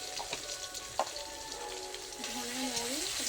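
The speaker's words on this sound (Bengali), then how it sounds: "ধনে মৌরি একটু ভেজে নেবো হালকা করে।" Coriander and fennel seeds sizzle lightly in hot oil, a steady crackling hiss with a few sharp pops, joined briefly by a faint high whine near the end.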